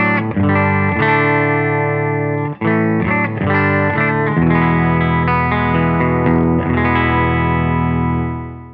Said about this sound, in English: Silktone amp sounds like this.